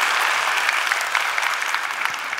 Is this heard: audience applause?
yes